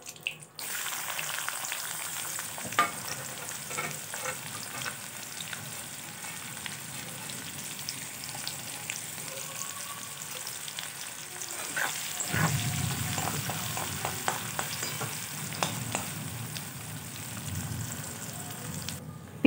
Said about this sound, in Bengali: তারপরে একটু নাড়াচাড়া করে দিয়ে দেবো ওর মধ্যে পেঁয়াজ কুচি।